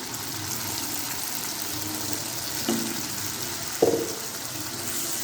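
Ginger paste with ground tomato and onion frying in a pan, a steady soft sizzle throughout with two brief clinks near the end.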